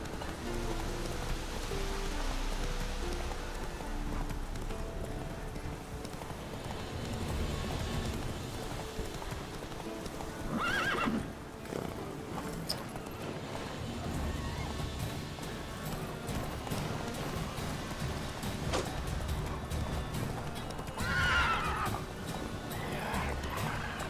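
Roach the horse moves in The Witcher 3 video game, with hooves clip-clopping steadily and a couple of whinnies, under a constant hiss of falling rain.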